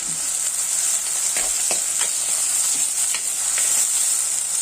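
Fish curry with green chillies sizzles steadily in a frying pan for a tuna and ground coconut curry, with a constant bright hiss and several soft scraping stirs of a spoon through the mixture.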